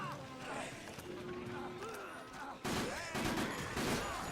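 Gunfire rings out through a door in Dead Rising, played as a Saint, as a loud burst of shots over dense game noise. A voice talks over it.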